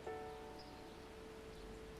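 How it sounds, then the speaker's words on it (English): Rain falls steadily over an emptied city street, a soft continuous patter spread evenly throughout, with a faint sustained tonal hum beneath and no voices. "inviting the sound of the falling rain into their homes"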